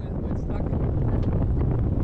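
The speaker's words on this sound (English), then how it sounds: "It's been a windy couple of days here in Boot Key." Strong wind buffets a sailboat anchored at Boot Key in the Florida Keys, a loud, continuous rushing roar of wind on the microphone with no break or rhythm.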